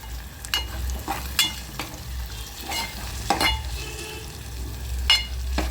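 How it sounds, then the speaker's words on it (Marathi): Masala roasting in a pan for egg curry, a continuous sizzle and fry under irregular scraping strokes of a spoon stirring it, close by, with no talking. "मस्तपैकी भाजला आहे आपला मसाला"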